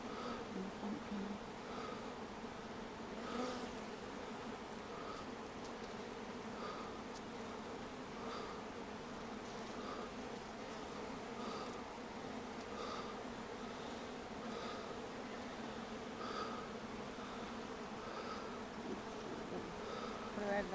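Honeybees buzz steadily around a hive during a colony split, a dense continuous drone close to the microphone with faint rustling and no talk.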